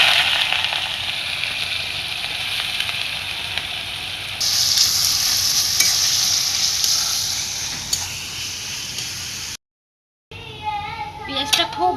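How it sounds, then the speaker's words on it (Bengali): Onions fry in hot oil in a clay pot on a gas stove for a beef curry. A steady hiss swells louder partway through, cuts out briefly, then a voice speaks at the end. "তেলটা গরম হয়ে গেছে, এখন পেঁয়াজ দিয়ে দিব।"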